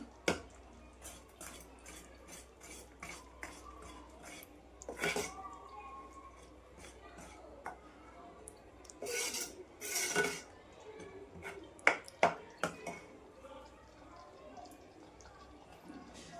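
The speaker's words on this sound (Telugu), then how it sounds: "ఒకసారి కలుపుకుందాము" Spices are stirred into a pea and paneer curry in a pan, with a spoon clinking and scraping against the metal in irregular bursts and a soft wet simmer underneath. Brief speech occurs between the strokes.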